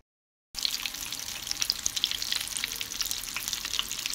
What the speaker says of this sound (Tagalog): piniprito na yung atayp natin